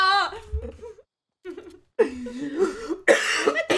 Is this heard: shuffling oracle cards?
no